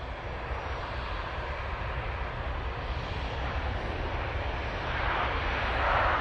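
Jet2 Airbus A321ceo jet engines on a flight to Heraklion give a continuous, dense broadband roar that swells slightly toward the end, steady and close with no talking.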